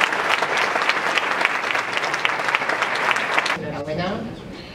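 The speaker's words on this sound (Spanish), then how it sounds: "Un aplauso, por favor." An audience at an awards ceremony for entrepreneurship applauds a hospital director collecting an honour, loud, dense clapping that stops abruptly and gives way to a voice starting to speak.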